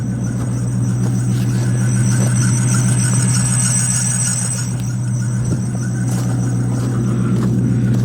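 A Lexus LS that needs repair, heard from inside while driving: a steady, loud low rumble runs throughout, with a faint high squeal layered on top and no talking.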